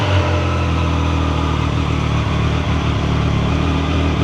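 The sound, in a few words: Triumph Tiger 800 Sport motorcycle engine running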